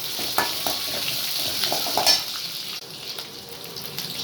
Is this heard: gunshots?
no